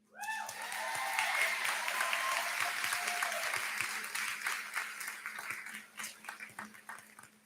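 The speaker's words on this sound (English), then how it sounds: "we are here to applaud you because you're still here" Graduation commencement audience applauding in a large hall, a dense sustained wash of many hands clapping that holds steady for several seconds, then thins into scattered, fading claps toward the end.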